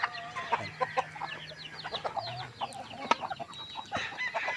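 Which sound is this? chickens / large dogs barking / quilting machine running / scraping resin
chickens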